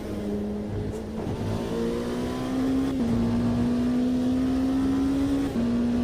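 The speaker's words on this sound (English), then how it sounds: "It's a nice engine noise." Race car engine in the sim racing game Automobilista 2 at Laguna Seca, revving loud and steady with pitch climbing through the gears and brief dips at shifts, with no voices.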